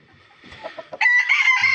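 A rooster lets out a short, loud crow close by, following a few soft, scattered clucks and bird sounds.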